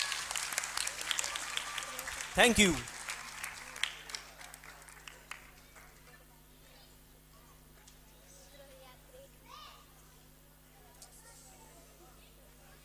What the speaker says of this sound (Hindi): आज की विनर टीम है सुमरा जमात। तालियां।